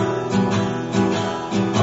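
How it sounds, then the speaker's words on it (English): Close guitar strumming in a loping swung rhythm, each upstroke arriving slightly late after the downstroke, played alone without voices. "For swing time, the ups are slightly delayed."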